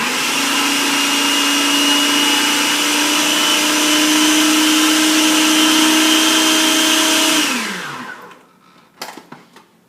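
A blender or food processor whirs loudly and steadily as it purées fresh basil pesto, running for about seven seconds before winding down. A few clattering knocks follow as the machine goes quiet.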